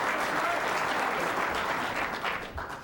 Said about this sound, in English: every time you make a shot, the crowd calls your name